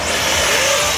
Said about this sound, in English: This truck coming.